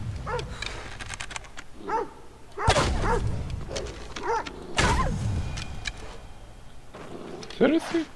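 Dog barking in Assassin's Creed Odyssey, short repeated barks and yelps scattered through the scene, mid-distance, mixed with game ambience and someone talking over it.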